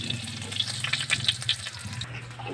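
Garlic and onion fry in a pan with a soft, steady crackling sizzle and a few light stirring scrapes, close and fairly quiet, with no talking.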